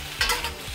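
Shrimp stir-fried in a new wok, a brief close burst of scraping stirring and hot sizzling with no voices.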